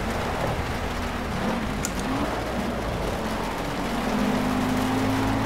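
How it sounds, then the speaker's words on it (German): Steady hiss of rain mixed with a droning race car engine during a wet race in the video game Project CARS, continuous and fairly loud with shifting engine tones. "Regen ist echt schwierig zu fahren in dem Spiel"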